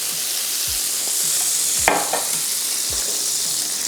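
Food sizzles steadily in margarine on a hot griddle, a constant bright frying hiss with occasional scraping and tapping of a spatula, close and clear with no talk.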